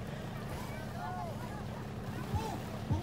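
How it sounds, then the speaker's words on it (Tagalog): A racing boat engine drones steadily and loudly throughout a boat race, with wind buffeting the microphone and a couple of thumps near the end. "Nire-relax niya yung makina, hindi niya nabakbakan ng ayos."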